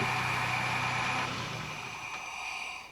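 Nissan Hardbody pickup engine idling steadily after an idle air control repair, a continuous mid-pitched hum with a faint whine, slightly softening partway through, with no voices.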